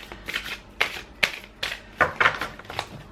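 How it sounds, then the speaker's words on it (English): Large oversized tarot-style cards shuffled by hand, close and fairly quiet, in a series of quick riffling bursts roughly every half second with soft pauses between. "so just bear with me while I shuffle"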